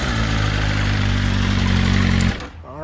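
A BMW M 1000 RR motorcycle with its stock exhaust runs loud and close, a steady deep engine drone holding evenly before cutting off abruptly near the end.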